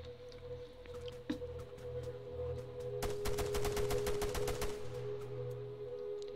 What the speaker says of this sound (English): No, this is just a little strange light machine gun.